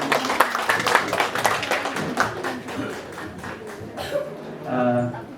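Brisk clapping from a crowd, a steady patter of many hands that fades out near the end as a voice begins.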